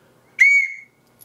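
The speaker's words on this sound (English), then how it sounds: "That is a good whistle." A survival whistle from a battle box kit gives one loud, shrill blast of about half a second, piercing and steady before cutting off into silence.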